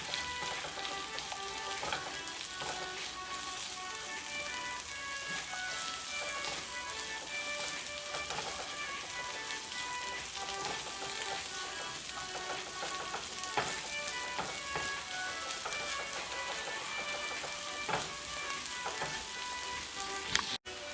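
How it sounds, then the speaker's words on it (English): Chicken breast sizzling in a hot pan during sautéing, a steady crackling fry that runs evenly throughout with no talking, before broth and wine are added. "Just saute it like just 2 minutes, and we'll add the broth and the wine."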